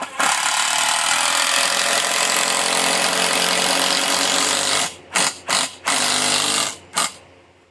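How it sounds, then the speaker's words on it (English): A power impact driver sinks 2-inch screws into wood: a loud, steady rattling hammer that runs for about five seconds, then several short bursts with brief pauses between them, close by. "Pop in a bunch of 2-inch screws."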